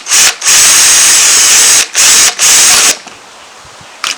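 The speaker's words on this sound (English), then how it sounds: "attempt to drill a hole right here" A power drill whirs loudly in several bursts while drilling a hole in a push mower, high-pitched and close, with short pauses between runs before falling quiet.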